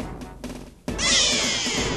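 A cat in the anime Yawaraka Sensha lets out a loud, sustained meow, following a quieter stretch of background sound.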